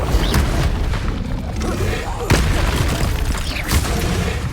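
Bombarda spell blasts in the Hogwarts Legacy video game, a dense run of booming explosions and bursts across a noisy battle soundscape, with louder impacts about a third of the way through and near the end.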